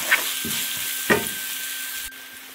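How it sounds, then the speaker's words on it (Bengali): Chopped onions with salt sautéing in a pan, a constant close sizzle with a steady hum and a few brisk scraping stirs, no voices. "পেঁয়াজটাকে খুব ভালো করে কষিয়ে নেব।"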